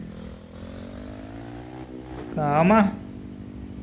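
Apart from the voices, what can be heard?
gas delivery motorcycle engine revving in Elite Motos 2 video game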